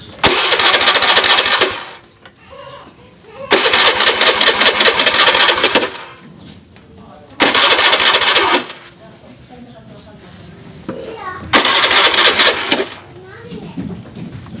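A Honda Beat FI scooter with a rough starter, sputtering acceleration and frequent stalling is cranked several times, each loud harsh starter burst followed by quieter idling gaps, with voices talking between attempts.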